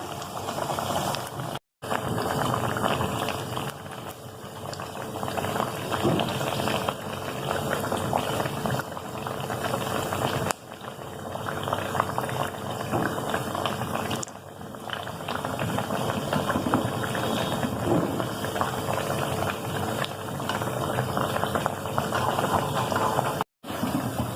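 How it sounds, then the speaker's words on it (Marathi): Sabudana vada deep-fry in hot oil over a low flame, a continuous dense sizzle and bubbling that holds steady and close throughout, with only brief gaps. "थोडंसं मंद आचेवरती तळूया"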